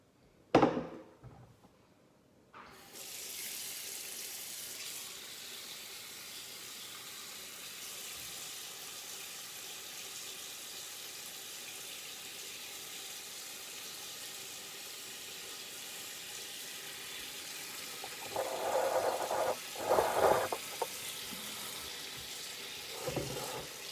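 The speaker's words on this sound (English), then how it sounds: "We're going to fill this up with water." Tap water runs steadily into a pot holding meat, vegetables and Vegeta stock powder for broth, a continuous rushing flow lasting about twenty seconds with a brief louder splash near the end, with no talking.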